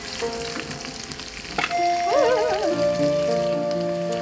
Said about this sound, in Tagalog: hinango ko na kasi nagtatalsikan ang mantika niya